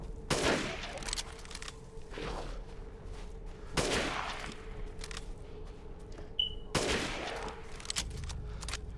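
Gunshots in Resident Evil Village, heard as four loud, well-spaced blasts, each followed by a short decay, over a low steady hum.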